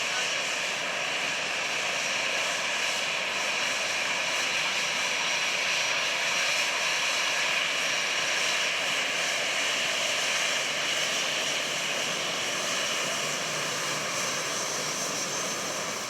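Steady, loud engine roar with broad airflow hiss inside the flight deck of a SriLankan Airlines Airbus A320 or A330 airliner in flight, continuous and unchanging throughout with no talk.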